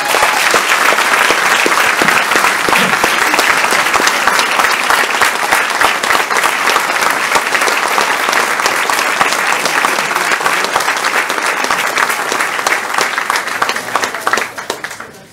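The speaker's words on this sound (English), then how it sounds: "Let's applaud them." A school board meeting audience gives student swimmers a long, loud round of applause, thick steady clapping that carries on for about fifteen seconds before tapering off at the end.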